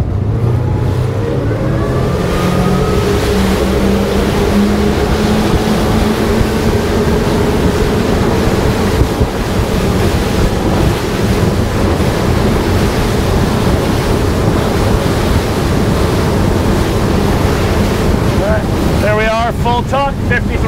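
A Regulator 34 center-console motorboat runs flat out at about 5300–5400 RPM, its steady engine drone and rushing water continuous over wind buffeting the microphone, with hull slaps as it crosses light chop.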